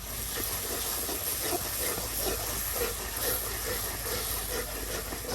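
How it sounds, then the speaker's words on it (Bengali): A spice paste fries in a pan with turmeric powder, giving a steady loud sizzling hiss that runs unbroken and close, with no talking. "হলুদের গুঁড়া দিয়া মশলাটা কষানো হচ্ছে"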